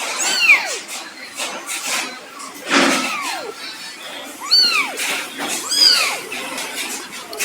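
A white kitten meows repeatedly at close range, four or five rising-and-falling cries spaced about a second apart, with faint background noise and no talking.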